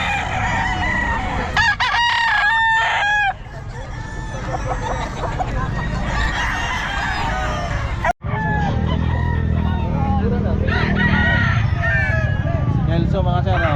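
Kelso gamefowl roosters at a bustling Bocaue market, several loud nearby crows and clucks overlapping, with people talking and crowd chatter throughout.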